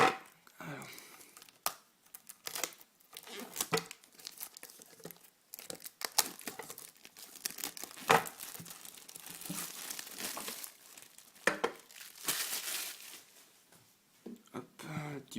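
Paper wrapping is torn and crinkled off a Pokémon-style card box set containing four boosters, with repeated sharp rips and rustling bursts in close, uneven bursts, while someone talks in French between and over the sounds.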